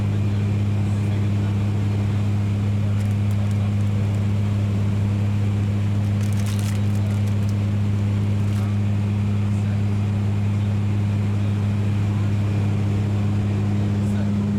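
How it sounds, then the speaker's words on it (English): Loud, constant droning hum inside the cabin of a Fokker 50 turboprop plane, a deep steady engine tone filling the whole stretch with a few faint clicks. "It is quite noisy on board, but that's to be expected from a classic turboprop like this."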